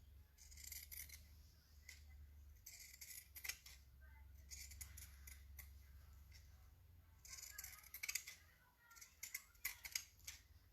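Scissors trim excess fabric and notch the curves of an autumn hat in quick repeated bursts of close, crisp snipping with short pauses between, over a low background hum.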